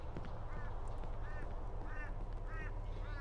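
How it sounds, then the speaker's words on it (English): Bird sound from the Cry of Fear horror video game: a series of short, nasal, quacking calls repeating roughly every half second over a low steady background rumble, fairly faint. "Just heard a bird with some feathers."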